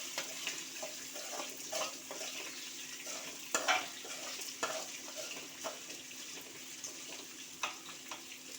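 Chana dal and chopped small onions fry in a pan for a village-style dal dosa, giving a soft, steady sizzle. Scattered scraping and stirring clicks come through from close by, with no talk.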